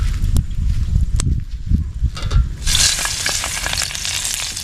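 Oil sizzles in a pan, starting as sparse crackles with soft clatter, then swelling after a few seconds into a dense, steady hiss close by, with no talking.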